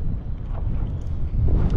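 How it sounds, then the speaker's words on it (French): Strong wind blowing over a small boat near a harbour buffets the microphone in a loud, low, gusty roar that swells and rises again toward the end. "ça décoiffe le vent"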